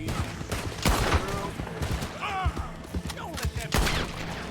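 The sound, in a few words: gunfire in the video game Red Dead Redemption 2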